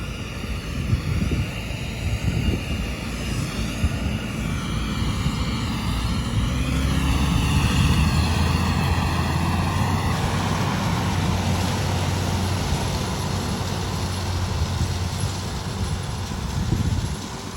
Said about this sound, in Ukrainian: турбіна дує, пилюка створюється неймовірно.